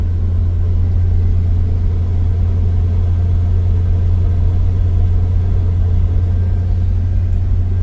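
The engine of a pieced-together 1978 Chevy C10 pickup idles loud and close, a steady deep rumble without any revving or voices.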